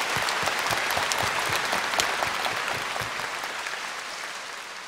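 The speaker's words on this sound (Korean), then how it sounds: "우리 주님께 감사 박수를 드리십시오." A church congregation claps in thanks during a sermon, a dense roomful of applause with distinct hand claps standing out, beginning strong and slowly fading over a few seconds.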